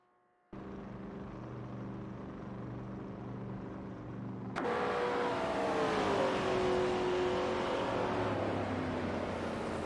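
Supercar engines roar in a racing video game at Weatherfield Speedway, a steady loud drone that surges louder midway as a car accelerates close by with rising and falling engine tones, with no one speaking.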